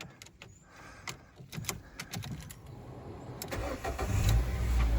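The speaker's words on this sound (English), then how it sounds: "start the engine again." A car engine with a fault is started again with its belt removed, giving a few sharp clicks and ticks before the engine catches and a low rumbling idle builds over the last seconds.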